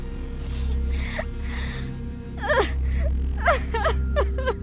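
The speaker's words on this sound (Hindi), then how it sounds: "धीरे धीरे वो रोने की आवाज़ थोड़ी धीमी हो गई।" A woman sobs in shaky, gasping breaths and thin whimpering wails over a low, steady drone.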